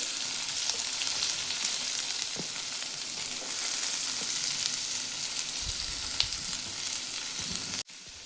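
Onions fry in oil for a spicy tomato, onion and green chili thecha, a continuous close sizzle with scattered pops and faint stirring knocks, ending in an abrupt cut to quieter hiss.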